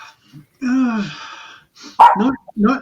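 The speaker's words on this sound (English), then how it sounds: "That's our dog." A dog barks and whines inside a house during a remote interview: one drawn-out, high yelping bark, then a few shorter bursts, close and fairly loud, with a person speaking briefly among them.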